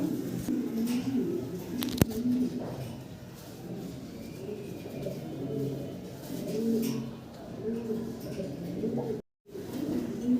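Fancy Lahori pigeons coo repeatedly in low, throaty rolls close by at a farm loft, a steady run of calls with brief pauses and a sharp tap partway through.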